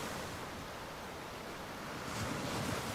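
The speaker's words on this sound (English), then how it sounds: "Such loud waves." Loud ocean waves in the indie video game Forgotten Fields, a constant heavy surf roar with wind-like hiss that surges louder near the end, no talking.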